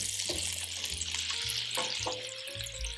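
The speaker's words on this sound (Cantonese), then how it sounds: "加少少橄欖油同埋40克牛油， 然後咧放晒所有洋葱落去" Sliced onions hit a wide flat pan of olive oil and 40 g of butter over medium heat, crackling into a close, continuous sizzle with background music underneath.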